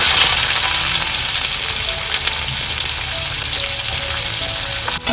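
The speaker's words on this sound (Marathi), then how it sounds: "व्यवस्थित कांदा परतवून घ्यायचा." Onion with mustard seeds and cumin sauté in hot oil in a kadai, producing a loud, continuous close sizzle with faint stirring scrapes throughout.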